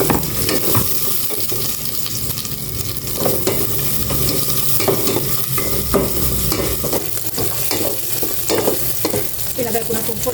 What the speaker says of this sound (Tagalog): Igisa ko na itong bawang. Sibuyas.